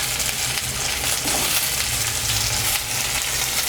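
Tomatoes tipped into a pan of onions that have browned in oil, a dense steady sizzle of frying filling the whole stretch with a soft stirring rustle, close and fairly loud, with no talking.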